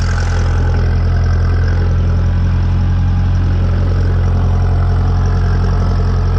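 A tractor engine runs steadily while pushing snow with a plow blade, a loud, continuous low drone with an even idle-like rumble and no voices throughout.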